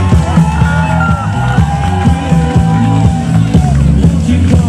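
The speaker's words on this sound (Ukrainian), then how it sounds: "вітаємо вашими гучними яскравими оплесками міс Нова Каховка Печенко Анна" Crowd cheering, whooping and shouting at the Miss Nova Kakhovka beauty pageant during a Youth Day celebration, loud and continuous over pounding rhythmic music with a heavy bass beat.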